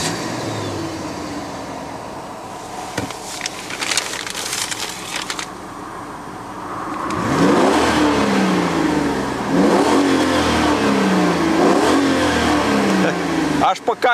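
A Mercedes-Benz W124 E500 V8 starts and revs in repeated loud, rising and falling bursts, close by, with someone talking briefly over the idle beforehand.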